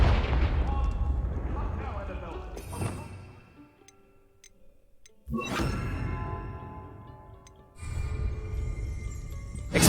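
A Confringo blasting spell cast in Hogwarts Legacy, heard as loud explosive bursts that fade into quieter ringing between blasts. Game music plays underneath.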